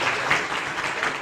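An audience claps for a medical student and social entrepreneur being introduced at a university event, a short burst of dense, steady applause.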